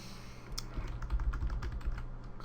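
Quick bursts of keystrokes on a computer keyboard while code is entered for a game project, close and clear, with uneven rhythm and short pauses between clusters.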